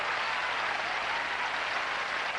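A tennis crowd at a 1984 Forest Hills final between Lendl and McEnroe applauds, a dense, steady wash of clapping with no voices.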